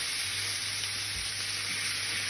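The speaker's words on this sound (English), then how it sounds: "we're going to fry this." Ingredients for a Jamaican-style chicken curry with Scotch bonnet peppers fry in a pan, producing a loud, dense, continuous sizzle that stays even from start to finish with no voices.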